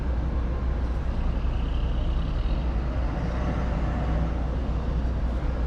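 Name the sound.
Sinar Jaya bus departing Pulau Gebang terminal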